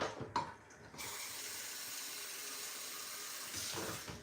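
A steady stream of tap water runs to cool a hot cooking pot, starting after a brief clatter and ending with a change in the flow near the end.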